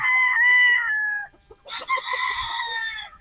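A Boston White three-way cross rooster with a straight comb crows up close, one drawn-out call, then a short break and a second crow.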